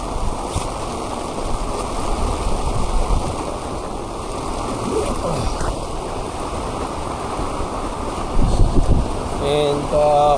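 Strong storm wind lashes a landing-point campsite in a steady, loud roar across the whole stretch, swelling into heavier gusts near the end.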